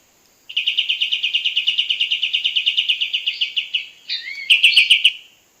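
A cotton bird (burung kapas) chirps loudly and close by in a long rapid series of repeated notes, then pauses briefly before a shorter, higher burst of chirps.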